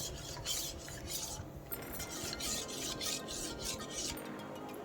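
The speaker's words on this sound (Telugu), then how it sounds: "ఎలాంటి ఉండలు లేకుండా చక్కగా కలుపుకోవాలి." A rice flour starch mixture is stirred smoothly to remove lumps, with a continuous rubbing, scraping sound of a utensil circling in a bowl, close and steady, with no talking.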